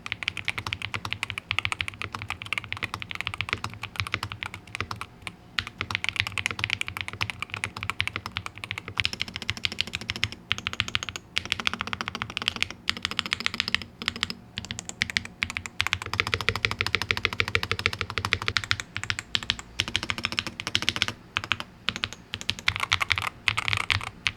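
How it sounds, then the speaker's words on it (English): Typing on a Pulsar PCMK 3 HE 60 keyboard with Gateron switches: a continuous rapid stream of close, crisp keystroke clacks with brief pauses between bursts. "The typing experience in this build with the Pulsar Get-Around switches"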